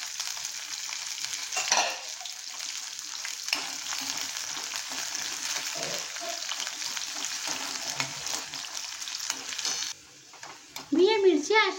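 Sliced green chilies and ginger sizzle and crackle in hot oil while being stirred for a homemade amla gooseberry pickle, a steady close frying hiss with a brief pause near the end.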